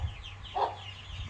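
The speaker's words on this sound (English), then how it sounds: "you can hear them chirping and her clucking" A hen on a farm gives a single close cluck midway, while faint high chirps from her chicks sound in the background over a low, steady ambient hum.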